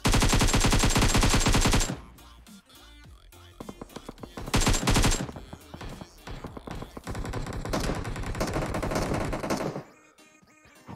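Gunfire in the mobile battle royale game PUBG Mobile: loud sustained automatic bursts, then scattered rapid shots and more long bursts, heard close with no talk.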